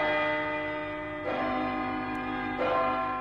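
Church bell struck twice, each clear ringing toll swelling and then decaying into a sustained tone.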